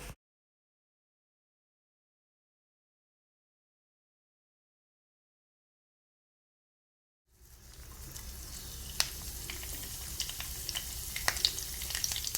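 After a long silence, a coconut oil tempering for jackfruit thoran starts sizzling and crackling steadily in the pan, with small pops scattered through the close, continuous fry.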